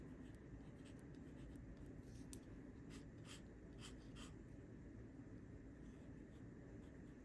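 A fountain pen scratches across paper in a quick sketch, with faint, quiet strokes and light scratchy ticks repeating over a low background hum.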